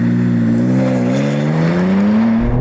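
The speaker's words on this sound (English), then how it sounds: "I've timed a normal M4 competition, did 0 to 60 this quickly." A BMW M4 Competition accelerating hard from 0 to 60, its loud engine note climbing steadily in pitch through a gear before easing off, heard close from inside.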